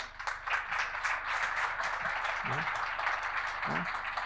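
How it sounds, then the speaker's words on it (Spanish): A conference audience at a business technology panel claps for panelist Guillermo Wichman, Customer CTO at Nokia: light, steady applause in the background while a voice speaks briefly over it. "un aplauso para él"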